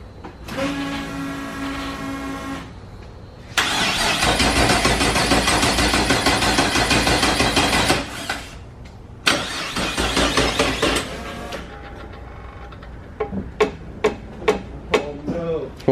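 Race car engine with a new turbo and 5-inch downpipe cranking and firing up, loud rough roaring bursts broken by pauses, then a sputtering run of sharp pops and backfires near the end.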